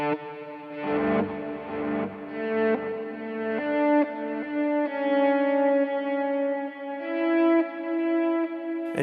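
A guitar played through an Alexander Pedals Rewind echo pedal set to auto swell with a slow attack: sustained notes and chords fade in softly, layered with echo and shimmering repeats, and no talking is heard.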